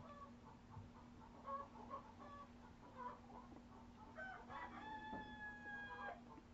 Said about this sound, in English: Oh my goodness. I hope you like chickens.